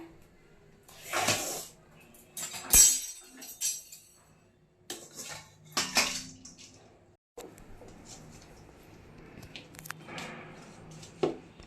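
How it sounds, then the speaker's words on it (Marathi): Cooked India Gate basmati rice tipped into a metal strainer, wet grains slipping and clinking against the metal in a few short bursts, with soft rustling in between. "मी तुम्हाला चाळणीत ओतून दाखवते कसा भात झालाय बघा"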